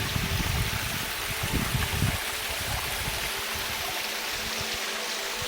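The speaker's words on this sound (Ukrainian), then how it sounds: "Ось такий от цікавий водоспад." Steady rushing water fills the scene, a continuous broadband roar like a small waterfall pouring nearby on the bank of the Dniester River, with no voices.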